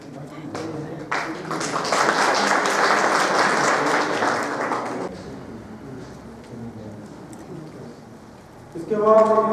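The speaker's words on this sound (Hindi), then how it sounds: "प्लीज जोरदार तालियां।" At a school management committee honouring ceremony in Hardaspura, an audience breaks into vigorous clapping that swells for a few seconds and then fades. A voice speaks over the room afterward.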